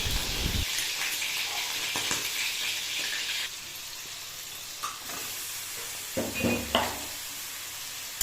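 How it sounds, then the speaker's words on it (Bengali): Chicken pieces fry in hot oil in a wok with a loud, continuous sizzle that eases partway through. Stirring scrapes and clatters come in toward the end, and nobody talks. "চিকেনের পিসগুলো কিন্তু ভালো মতন তেলে আগে ফ্রাই করে নেবো"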